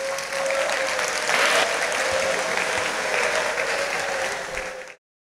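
Steady, dense applause from an audience at an Islamic boarding school cabinet report event, cheering the music team, holding evenly for about five seconds before cutting off abruptly.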